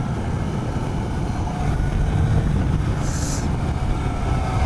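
A steady engine roar with a rising, slightly shrill edge from a Suzuki GSX-S750 multi-cylinder motorcycle revving under acceleration, continuous and fairly loud throughout.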